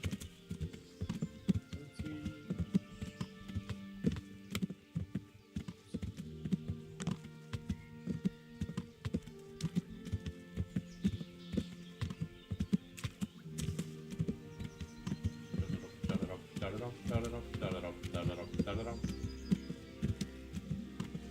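Rhythmic clip-clopping of horse hooves with a synthetic, game-like quality in Kingdom Come, steady taps layered over soft background music.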